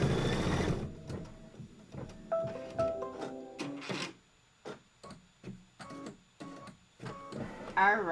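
An embroidery machine stitches a quilting project in short bursts of rapid mechanical chatter, starting and stopping with brief pauses between runs, close and clear.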